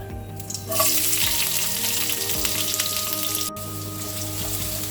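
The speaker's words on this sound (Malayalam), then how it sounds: "കടുക് പൊട്ടിക്കഴിഞ്ഞാൽ സവാള ചേർക്കുക" Chopped onion hits hot oil with popped mustard seeds for Kerala beetroot thoran, bursting into a loud sizzle after a brief quiet moment, then crackling steadily with light stirring clicks.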